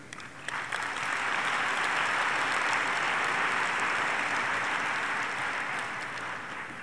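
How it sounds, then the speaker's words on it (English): A large audience at the AIPAC 2020 policy conference applauds in a steady, dense wash of clapping that swells quickly and holds at full strength for several seconds before easing slightly, with no voices over it. "we should all be the first to applaud and still be applauding today"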